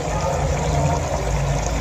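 Hot water poured into browned mutton masala cooking in oil for mutton chops, a steady close splashing trickle running unbroken for under two seconds.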